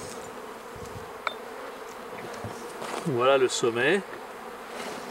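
An open honeybee colony in a square divisible hive hums with a continuous buzz of many bees close by, while someone speaks French briefly partway through.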